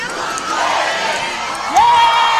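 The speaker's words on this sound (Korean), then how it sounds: "문재인, 문재인, 문재인 3번 연호하겠습니다" A large rally crowd for candidate Moon Jae-in roars and cheers in a dense, loud mass of voices, with a rising shout near the end; the name chant itself is not clearly distinct.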